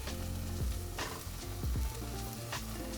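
Eggplant stir-frying with softened onions in a pan for a vegan Vietnamese cà tím xào; a close, constant crackling sizzle with several dull knocks and scrapes of stirring.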